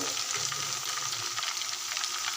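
Chicken pakoras deep-frying in hot oil give a steady, dense sizzle with fine crackling bubbles, continuous and fairly close, with no voices.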